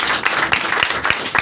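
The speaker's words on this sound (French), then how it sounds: "Amen. Amen. Applaudissez." A church congregation claps during a service, a short loud burst of fairly rhythmic hand claps with a few sharper strikes standing out.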